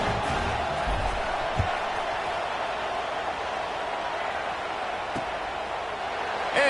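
A football stadium crowd buzzes after a touchdown, a steady broad roar of many voices at moderate distance that holds for several seconds with no distinct cheers standing out.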